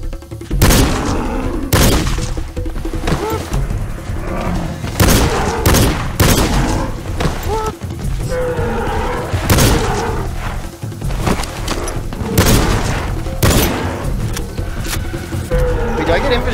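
Repeated gunshots and booming blasts ring out in Cabela's Dangerous Hunts 2013, a pistol firing during a hunting game clash with buffalo, loud irregular shots spread across the span over dense game sound and music.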